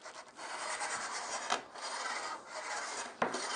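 A hand plane shaving wood on a shooting board as it is broken in, a steady broadband rasp with strokes ending in sharp clicks about every one and a half seconds, close and alone.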